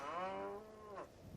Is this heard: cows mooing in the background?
yes